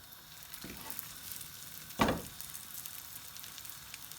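Folded chicken pancakes, crepes, fry in a pan over medium-high heat with a soft steady sizzle, and a sharper burst of crackling comes about midway, then settles back into a low, even fry.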